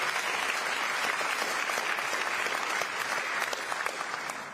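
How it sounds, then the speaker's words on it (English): Sustained audience applause at a global vaccine funding summit, a dense even wash of clapping from a large crowd lasting several seconds with no speech over it. "A final round of applause, please, for all the incredible pledges and numbers we heard earlier today."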